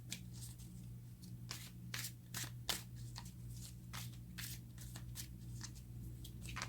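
Tarot cards are shuffled by hand in quick, repeated riffling bursts, close and fairly quiet over a low steady hum.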